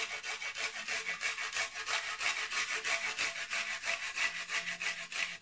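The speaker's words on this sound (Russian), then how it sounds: "Ладно, я без чеснока давилки, я на терке." Garlic rubbed by hand across a metal grater, a fast run of rhythmic rasping strokes close to the microphone, evenly spaced and continuous.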